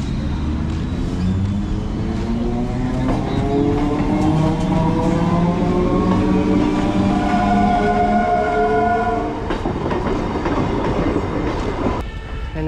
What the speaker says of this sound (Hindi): ये है लोकल ट्रेन